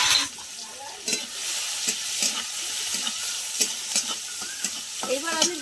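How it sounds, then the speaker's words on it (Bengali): Chopped onion and black cumin sizzling in hot oil, a steady crackling fry broken by repeated scrapes and clicks of stirring in the pan, close and alone. "এবার আমি ফোড়নে দিয়ে দেবো ওই তেলেই কালো জিরে, পেঁয়াজ কুচি। পেঁয়াজটা একটু ভেজে নেবো ভালো করে।"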